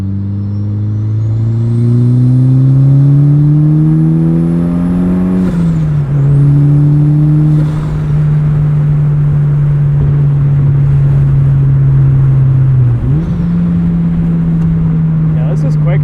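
Turbocharged 2003 NB Mazda Miata making about 240 wheel horsepower, engine droning loud and steady from inside the cabin as it accelerates through the gears, with rising pitch and turbo whine, a brief shift dip, then steady pull.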